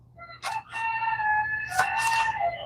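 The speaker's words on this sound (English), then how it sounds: "Silky Rooster has definitely found his crow." A Silkie rooster crows twice in fairly clear succession, each call a drawn-out, warbling cry over faint background hum.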